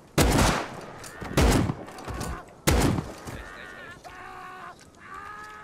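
Gunfire in the survival game Rust: three loud, close bursts of shots in quick succession, followed by ringing tonal game effects, with a player talking over the action.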